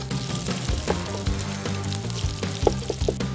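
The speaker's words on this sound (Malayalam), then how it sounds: "കുറച്ച് സവാള നമുക്ക് മസാലയ്ക്കായിട്ട് ഉപയോഗിക്കണം. നല്ല ചൊകാന്ന് വറുത്ത് വരണം." Onions sizzle steadily in a hot pan while being browned for a Kolkata biryani masala, a continuous close frying hiss with a few louder crackles and stirring clatters.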